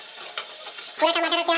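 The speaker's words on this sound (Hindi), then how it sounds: "देखिए अब प्याज भुंजा रहा है बहुत अच्छे से दोस्तों" Onion fries in a kadai, a soft sizzle with scraping stirs, then a denser, louder crackle of frying toward the end, close up.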